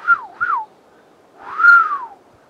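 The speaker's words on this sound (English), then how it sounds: "I start getting low tone whistles" Three low-pitched whistles sound in a quiet woodland, first two short quick ones and then a longer drawn-out falling whistle, clear and fairly close against near silence.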